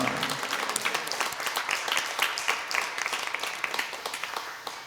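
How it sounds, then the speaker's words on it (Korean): A church congregation at a Thanksgiving worship service claps together in praise, a continuous, even wash of many hands clapping at moderate distance for several seconds. "박수로 하나님께 영광을 올려드리겠습니다"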